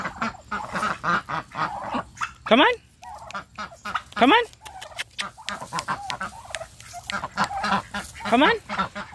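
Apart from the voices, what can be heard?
turkeys and ducks calling while being herded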